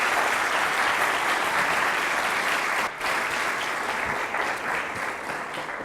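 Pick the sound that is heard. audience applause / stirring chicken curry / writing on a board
audience applause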